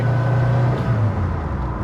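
A Ford Pinto on a test drive gives a steady, close-miked engine hum and road rumble that holds even throughout.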